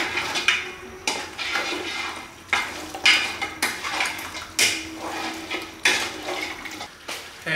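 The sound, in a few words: stirring coconut beef stew in a pot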